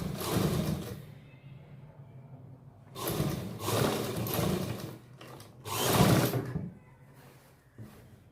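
A sewing machine stitches pleats on a salwar in several bursts of steady mechanical whirring and rattling, each running one to two seconds with quiet pauses between, close and loud, with no talk.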